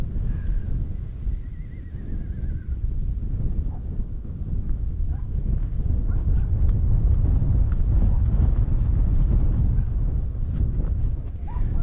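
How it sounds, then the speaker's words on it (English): Strong, cold outdoor wind buffeting the microphone, a loud, constant low roar that swells and gusts throughout with no talking. "The wind is strong enough to push me around today"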